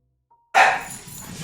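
A single sharp dog bark bursts out after a moment of silence, loud and close, then trails off.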